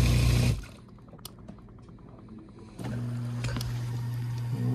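Water sprays and swishes inside a dishwasher running its normal wash cycle, a steady close wash noise that drops off briefly and then returns at full level, with some faint clicks while it is quieter.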